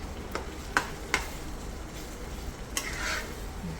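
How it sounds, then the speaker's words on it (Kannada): A spoon stirring vangibath powder mixture in a pan on the stove, giving soft scraping and a few sharp clinks against the metal over a faint sizzle. "ಇದೆಲ್ಲ ಮಿಕ್ಸ್ ಮಾಡ್ಕೊಳ್ಳೋಣ"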